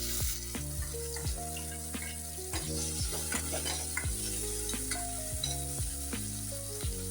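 Tomatoes sauté in a hot pan for palak rice, giving a steady close sizzle with occasional stirring scrapes, while music plays softly underneath.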